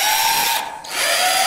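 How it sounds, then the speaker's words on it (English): A power drill whines loudly and steadily in the bomb-defusal game Wrong Wire, dipping briefly in the middle before spinning back up to full speed. "Start by using the drill."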